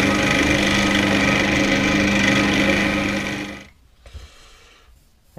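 A wooden fountain pen blank spins on a lathe while a skew chisel cuts it, making a steady, loud whirring scrape that stops abruptly near the end, leaving a few faint knocks.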